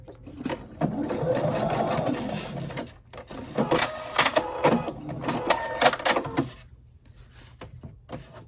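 Sewing machine stitching and backstitching while sewing a fabric Halloween mask, with bursts of motor whir and rapid needle clatter, pauses between runs, soft handling clicks, close and moderately quiet.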